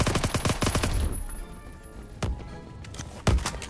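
Automatic rifle fire in the Roblox shooter Phantom Forces, in the zombie-war update: a rapid burst of close shots for the first second, then sparser single loud cracks amid game ambience.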